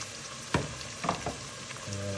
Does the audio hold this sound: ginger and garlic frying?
yes